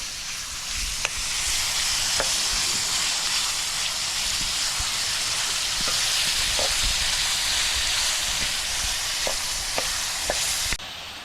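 Tomato and green chili fry and get stirred in a pan at an outdoor forest cooking spot, a loud, steady close sizzle broken by occasional sharp scrapes and clicks from the stirring tool.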